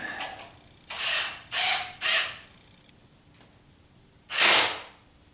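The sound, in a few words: tightening Pypes exhaust parts on 1976 Corvette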